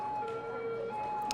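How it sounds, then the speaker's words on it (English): Ambulance and police car sirens in the city-building video game Cities: Skylines give a steady, thin, wailing electronic tone. It is faint and continuous over a busy background hum from the game. "There's ambulances and police cars."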